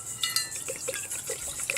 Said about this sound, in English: And I'm just going to use some of this water here.